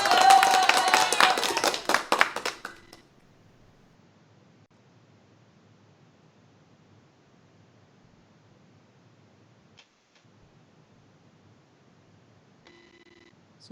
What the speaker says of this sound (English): I'm just going to cue the applause sound one more time.